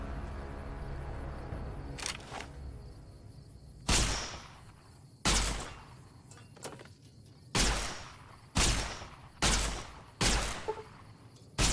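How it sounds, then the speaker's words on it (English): Gunshots in Fallout New Vegas gameplay, a series of sharp, loud cracks fired singly at irregular intervals, each with a short decaying tail over a faint ambient background. "Someone is shooting."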